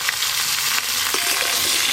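Cut star fruit sizzles loudly in hot oil with mustard seeds in a kadai, a close, continuous crackling fry with some stirring.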